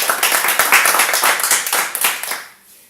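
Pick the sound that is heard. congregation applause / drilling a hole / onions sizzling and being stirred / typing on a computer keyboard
congregation applause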